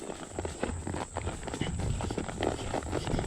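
Hooves of a Walking Horse mare named Macchiato moving along a trail under a rider, a steady soft clip-clop of footfalls mixed with rustle and faint movement noise close by.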